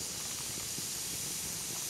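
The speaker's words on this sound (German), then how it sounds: "wie durch die Hitze jetzt das Wasser hier rausgetrieben wird" Steady, faint hiss of water being driven out of wet spruce wood burning in a fire, a continuous broadband sizzle with soft low crackles underneath, heard alone without talk.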